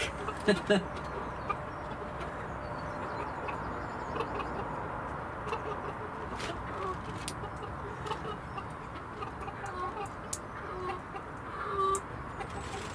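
Chickens cluck steadily at close range over a constant farmyard rustle, with a few sharper squawks breaking through now and then.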